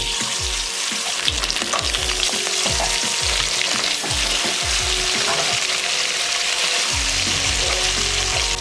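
Tilapia fish coated in salt and turmeric frying in hot oil, a loud dense continuous sizzle with bursts of popping spatter, close up and without talk.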